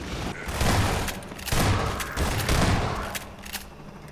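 Dense bursts of gunfire and booming explosions roll through continuously during a bridge battle in the video game Half-Life 2, loud and chaotic, with repeated heavy blasts layered over rapid shots.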